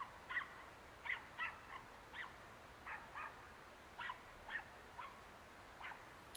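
Several dogs barking in the distance outdoors, about a dozen faint, scattered yips and barks in an irregular rhythm over a quiet background hiss.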